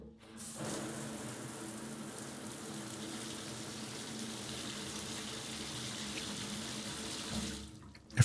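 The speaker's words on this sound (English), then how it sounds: "Yeah, that was a shower." Water from a small walk-in hotel shower runs in a steady, close hiss for about seven seconds, starting and stopping abruptly, with no voices.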